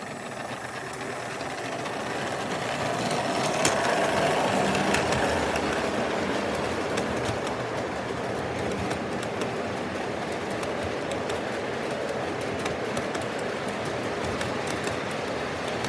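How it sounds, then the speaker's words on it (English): A Lionel FM Trainmaster model locomotive with magnetic traction pulls a long consist of cars along the track, giving a steady rumbling roll with a faint rise and fall, loud and continuous, with no voices. "Quite a long train for one locomotive."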